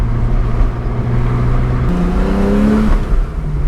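A Porsche 911 991.1 Carrera S drives at moderate speed, its engine humming steadily from inside the cabin with a gear-related shift in pitch partway through and constant road noise.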